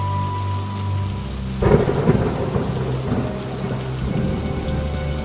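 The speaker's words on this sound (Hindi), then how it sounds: "इस बारिश में हमारे घर डूब गए हैं।" Heavy rain pours steadily while a loud rumble of thunder breaks in partway through and rolls on beneath the downpour, with no voices present.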